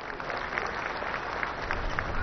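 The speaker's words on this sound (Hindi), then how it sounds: "मैं आप सभी से तालियों के साथ इन बच्चों के स्वागत के लिए अपील करता हूं।" An audience claps steadily at a Sashastra Seema Bal Raising Day parade to welcome children, a dense, even wash of applause throughout with no voices standing out.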